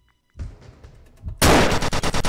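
Shotgun blasts in the VR shooter Fast and Low: after softer game noise, a loud close burst of several sharp gunshots hits in quick succession, each cracking out and decaying over the last second.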